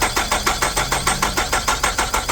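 A 2013 Nissan Altima engine with no spark cranks steadily without catching, the starter producing a loud, evenly pulsing rhythm of roughly five beats per second close by, with no voices.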